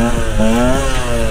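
A Husqvarna TE125 dirt bike engine revs hard and loud during a second-gear wheelie, its pitch climbing steadily as the throttle opens, close to the listener.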